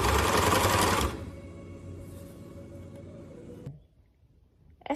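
Sewing machine stitching a dart in dress fabric, loud and steady for about a second, then a softer, slower whirring run that stops, leaving near silence.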